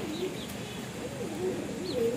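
A Siraji pigeon gives a few soft, low coos close by, spread across a steady background hush.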